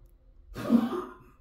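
An old dog coughs once indoors, a single short rough hacking burst close by in an otherwise quiet room.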